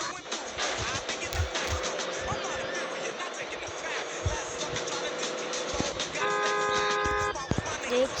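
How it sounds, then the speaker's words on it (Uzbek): A car horn honks inside the GTA V video game: a sustained, steady horn blast toward the end of the clip, rising over continuous game traffic noise and a voice. "Signal sesleri"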